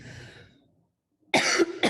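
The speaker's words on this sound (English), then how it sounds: "I'm just about to cough, so I'm going to mute" A single person coughs sharply twice in quick succession, close to the microphone, after a short breath and a moment of silence.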